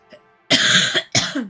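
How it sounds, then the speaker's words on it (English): Two harsh coughs in quick succession, close and loud, following a faint murmur at the start. "I still cough here and there"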